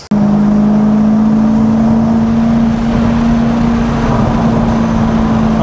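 A BMW M3 V8 paired with a DKG gearbox idles loudly up close, a steady low drone with a constant hum that runs unbroken after a brief start.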